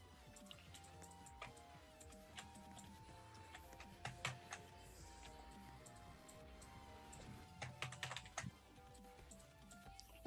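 Rapid, steady computer keyboard typing with clustered bursts of keystrokes, close and clear, during a Roblox Lumber Tycoon 2 session, with no talking over it.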